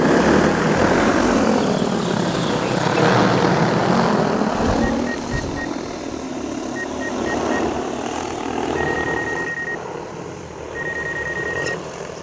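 The propellers of a DJI Agras T100 agricultural drone roar loudly near the ground, then ease off slightly, while intermittent warning beeps sound.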